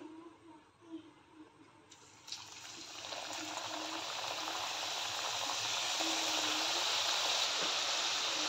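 Namakpare dough goes into hot oil and starts frying, the quiet start giving way to a loud, steady bubbling sizzle that builds and holds to the end.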